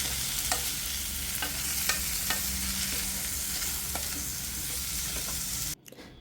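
Papaya stirred with salt in a hot pan gives a close, steady sizzle, with scattered scraping clicks of the spoon against the pan, until it cuts off abruptly near the end; nobody speaks.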